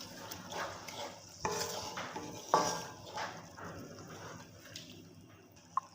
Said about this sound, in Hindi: और मसाले को हम अच्छे से भून लेंगे।